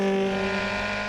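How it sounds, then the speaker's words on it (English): Yamaha FZR1000 EXUP motorcycle engine pulling under gradually fed-in power, a steady, close, harmonic-rich drone holding pitch without sharp revving. "You can hear he's still feeding in the power gradually, and the engine is so slow to rev"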